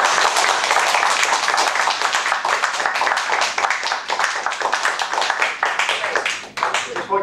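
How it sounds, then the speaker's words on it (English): A Toastmasters club audience claps for the club officers at a meeting: dense, steady clapping close to the mic for several seconds, with a voice faintly mixed in. "Let's go ahead and clap them for all."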